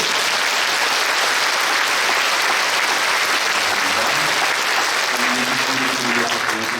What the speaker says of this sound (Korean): 이런 예배 드리게 하신 우리 하나님께 감사의 영광 박수 드리겠습니다.